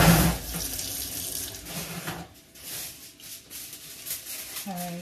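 Tap water runs into a kitchen sink while food is washed before dinner, a steady close splashing that wavers as hands move through the stream.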